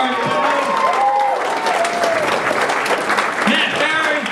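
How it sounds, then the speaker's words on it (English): Comedy club audience at Headliners breaking into steady, loud applause that fills the room, with a few cheers and whoops rising over the clapping throughout. "Dick Doherty, round of applause"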